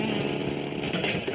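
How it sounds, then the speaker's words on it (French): A lawn mower engine starting up in a cartoon, giving a loud, steady, rough motor buzz that runs through the whole short stretch with no talking. "Je voudrais enregistrer le démarrage de la tondeuse!"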